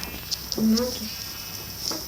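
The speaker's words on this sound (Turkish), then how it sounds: "O koyunları öldürelim mi?" A single short sheep bleat from Minecraft Skyblock sounds over a steady background tone, with a young voice talking briefly around it.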